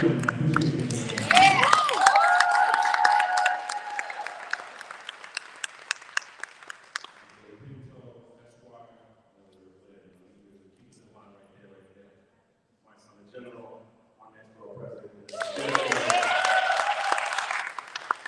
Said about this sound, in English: Jules, clap up for Jules